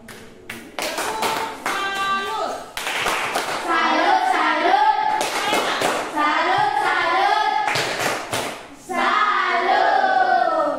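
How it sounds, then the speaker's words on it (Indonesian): An audience applauds after a class presentation, many hands clapping loudly and steadily in a small room, with short pauses between waves of applause and a voice briefly audible. "Kita tepuk tangan"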